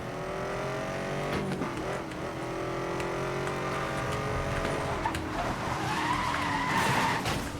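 A Corvette ZR1 in the racing game Need for Speed Most Wanted (2012) slides sideways, its tyres squealing in long continuous skids over a droning engine that rises and revs, loud and steady throughout.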